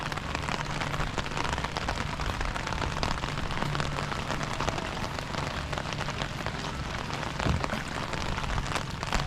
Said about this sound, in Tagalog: Masama ang panahon, masama ang loob ng kalangitan kaya umuulan.